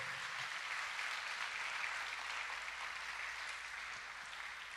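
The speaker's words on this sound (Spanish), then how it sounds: "denle un aplauso al Señor en esta mañana" Sustained applause from a church congregation fills the space evenly, a steady wash of clapping hands that holds for several seconds without pause.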